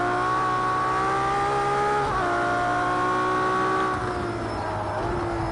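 A racing car engine holds a high, steady whine, drops pitch as a gear shifts, then keeps droning, loud and close with no voices.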